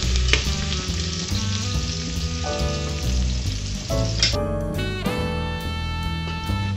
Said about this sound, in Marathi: आता फोडणीसाठी तेल तापवा व त्यात चिरलेला बारीक कांदा परतून घ्या